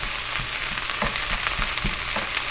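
Vegetables and shrimp with sausage fry in olive oil for a stir fry, giving a steady close broadband sizzle with small crackling pops throughout, no voices.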